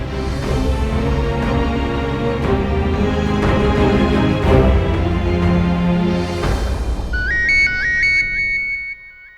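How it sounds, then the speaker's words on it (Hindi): Loud music plays, then a phone ringtone's bright repeating electronic chime takes over near the end, clear and close. "मैम, आयुष्मान की वाइफ का फोन आ रहा है"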